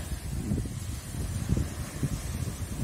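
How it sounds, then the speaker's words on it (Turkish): Gusty wind buffeting the microphone at a seaside campsite in Bodrum, a continuous low rumble with no voices. "Bugün biraz rüzgar var"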